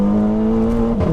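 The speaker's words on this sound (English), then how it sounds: "But once we got the power down, very smooth. It's a very progressive pull. And again, the engine note's real nice." Inside a 360 bhp Revo Stage 2 Plus tuned VW Scirocco R, the engine holds a loud, steady droning note under acceleration, dipping briefly near the end as the pull shifts, with no talking.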